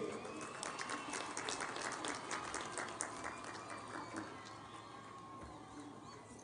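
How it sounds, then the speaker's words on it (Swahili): A large outdoor crowd at Kenya's Jamhuri Day celebrations welcomes President William Ruto with a dense, continuous wash of applause and high ululation, loud and steady throughout and slowly easing toward the end. "Tumkaribishe jameni na vigelegele."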